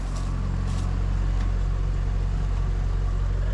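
A GAZ-69 engine runs with a steady low rumble, close and constant, while the vehicle pulls away, with no talking.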